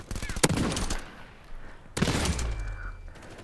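Shotgun blasts in the VR shooter Contractors, two loud sharp reports about a second and a half apart, each followed by rattling mechanical handling noise and scattered game sounds.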